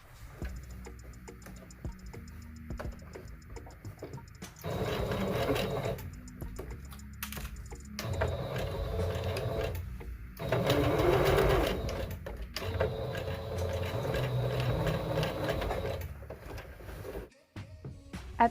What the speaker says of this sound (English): Now I'm going to do a zigzag stitch attaching these 4